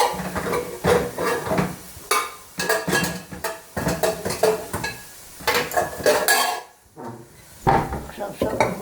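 A knife slicing cooked octopus in a kitchen, with steady clattering and scraping of utensils and dishes in repeated bursts, close and busy, and a brief lull near the end.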